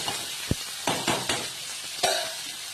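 Boiled banana stem, cooked with salt and turmeric in a pressure cooker and drained, sizzles steadily in hot oil while a utensil stirs it with several sharp scraping knocks against the pan.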